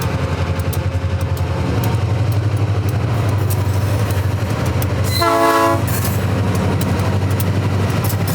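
An empty freight train returning to the Mosaic phosphate mine rolls past with steady rumbling and clacking wheels, and its horn sounds once loudly in the middle before the rolling noise carries on.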